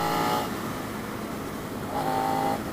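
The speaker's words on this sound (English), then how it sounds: "that engine brake drop, just by coming off the throttle" A Suzuki SV650 motorcycle engine revs, then drops off under engine braking as the rider eases off the throttle, the tone falling away before rising again briefly.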